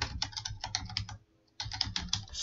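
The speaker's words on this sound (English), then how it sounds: "I'm gonna type in allow non-standard firewall address" Typing on a computer keyboard: rapid, close key clicks in two bursts separated by a brief pause, no talking.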